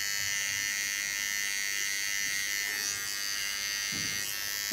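Electric hair clippers buzz steadily while shaving the nape of the neck during a haircut, a continuous high whine close by with small shifts in pitch as the blades move over the hair.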